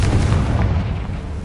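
A Confringo spell explodes in the Hogwarts Legacy video game as one loud, close, booming blast with a rumbling low-end tail lasting about a second and a half.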